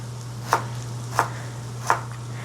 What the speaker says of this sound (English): I'm gonna cut each half into thirds